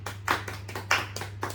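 Scattered audience clapping at an Indonesian panel discussion, a few uneven bursts of hand claps over a constant low hum, fairly close and brief.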